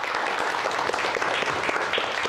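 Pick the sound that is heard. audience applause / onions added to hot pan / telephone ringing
audience applause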